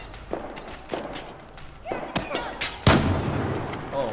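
Gunfire in the military shooter Battlefield 4, with several sharp shots and thuds spread across the moment and one heavier blast near the end, set over steady game ambience.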